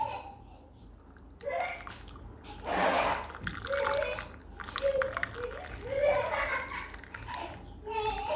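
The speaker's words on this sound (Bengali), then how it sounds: "চাটা এখন আমি ঢেলে নেব।" Masala milk tea is poured from the pot after the stove is switched off, giving a soft liquid trickle and splashing in bursts over a quiet kitchen background.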